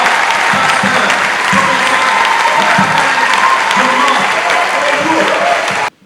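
A church congregation stands and applauds loudly and steadily to acclaim God, with dense continuous clapping and crowd noise that cuts off abruptly at the end.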